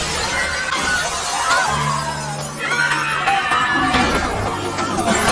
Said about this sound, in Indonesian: lantai yang tadi retak pun pecah